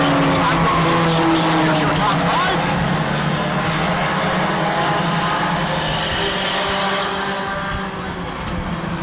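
A Honda CRX race car driving on track in the middle of a pack, loud sustained engine roar with other cars close by and a commentator talking over it, fading slightly at the end.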